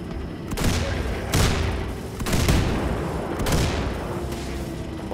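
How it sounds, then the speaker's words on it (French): Machine gun fire in Wolfenstein II: The New Colossus comes as heavy, booming bursts that return at intervals over a dense, steady wash of background battle noise. "Ok, c'est bon, on a la mitrailleuse"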